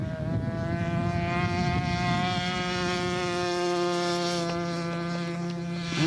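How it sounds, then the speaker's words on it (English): Hornet scale model aircraft taxiing out at a scale aircraft show, its engine holding a steady, loud buzzing drone throughout with a strong harmonic whine, a slight pitch change near the end. "Doug Dixon taxiing out in his Hornet for his first flight of the day"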